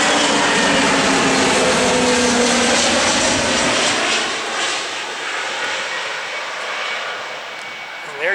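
A fixed-wing airliner passes close by near a runway at Atlanta's ATL airport, its loud engine roar swelling at first and then fading gradually as it moves away, with no talk over it.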